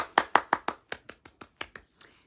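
A dozen or so separate hand claps in an uneven rhythm, sharp and close, starting strong and then thinning out and fading in loudness, like a small, brief round of applause.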